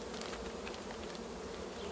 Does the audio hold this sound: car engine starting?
no